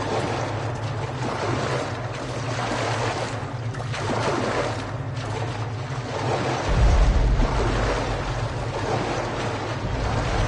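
Water in the Metro video game, a steady rushing wash of flowing water like surf, continuous and fairly loud, with a deeper swell of low rumble joining near the end, no voices.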